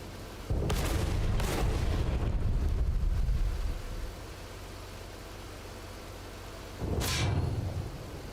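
A tank cannon fires in the World of Tanks console game, two heavy booming shots close together early on, with a rumbling engine between them and a third loud blast near the end.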